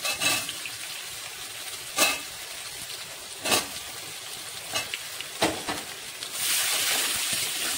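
Tomatoes and fried potatoes sizzling in a pan as they are stirred, a steady frying hiss broken by several sharp scraping stir strokes, with the sizzle swelling louder near the end.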